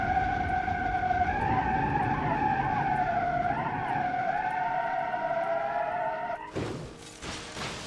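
Car tyres screech in a long, loud, wavering skid under braking in the driving game BeamNG.drive, ending in a burst of crunching impact noise near the end, with no talking.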